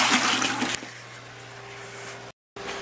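Aquarium water being poured and transferred between fish tanks, heard up close as a rushing, gurgling flow that settles into a quieter trickle, with a low hum underneath and a short silent gap near the end.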